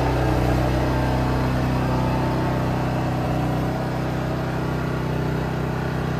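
A Max Pedding Rod 3500 watt portable generator runs steadily at close range, about eight feet off, giving a constant mid-pitched engine hum with an even drone and no pauses.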